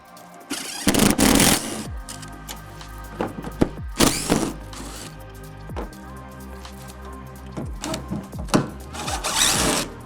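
A power gun zips out the tonneau cover bolts on a 2023-onward Ford Ranger, loud close rattling bursts separated by short pauses and workshop clatter.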